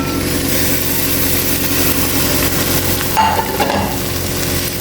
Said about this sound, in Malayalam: ഇനി ആ തേങ്ങാക്കൊത്തൊന്ന് ചെറുതായിട്ടൊന്ന് റോസ്റ്റ് ചെയ്തെടുക്കാം